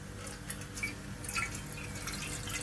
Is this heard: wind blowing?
no